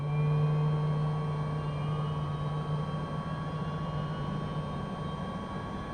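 MV-22 Osprey engines spool up in Microsoft Flight Simulator, a loud steady whine with a humming drone that eases slightly after the first seconds and holds, with no voices.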